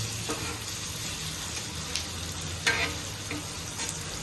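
Fish frying in a pan after being turned over, a continuous close sizzle with a few brief scraping or clattering touches, no voices.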